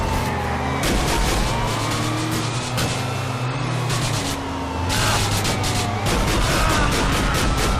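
Tyre screech from a car sliding into oversteer during a GTA IV police chase, loud and sustained over constant engine roar, gunfire-like bursts and game voices.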